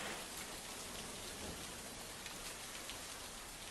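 Heavy monsoon downpour in Igatpuri taluka near Nashik, a dense continuous hiss of rain pounding surfaces, steady and enveloping but recorded at low level, with no voices.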